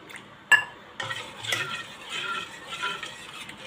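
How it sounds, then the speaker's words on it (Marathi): Soft wet stirring and sloshing of a thin batter in a bowl, with a sharp clink of a utensil near the start. "हे चांगलं मिक्स करून घ्यायचं आहे पाण्यामध्ये"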